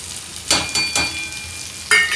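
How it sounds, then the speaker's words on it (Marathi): Tomatoes sautéing in a pan with coriander powder, turmeric, red chili, ghati masala and amchur, a loud close sizzle with a few sharp bursts as the mixture is stirred and turned. "मसाले टोमॅटो सोबत व्यवस्थित परतून घ्यायचे आहेत।"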